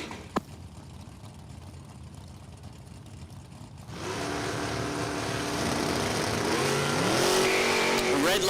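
Drag racing cars, including a 93 Mustang, launch down the strip at a dragway: after a few seconds of quiet a loud engine roar bursts in and holds, climbing in pitch as the cars accelerate away.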